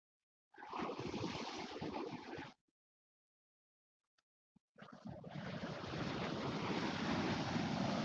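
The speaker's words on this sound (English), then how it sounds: "There's some nice little waves coming in" Small waves wash in twice with a gap of near silence between, a steady broadband rush of surf close by with some wind buffeting.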